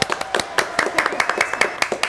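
Small audience clapping on the Jacky lave plus propre show, roughly a dozen sharp, fairly close hand claps at an uneven rhythm, sparse rather than a full ovation.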